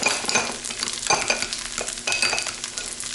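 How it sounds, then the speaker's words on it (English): Longganisa fried rice with banana ketchup stirred in a hot pan, sizzling and frying under scraping, clattering strokes of a utensil, close and fairly loud. "So we give that a one-handed stir."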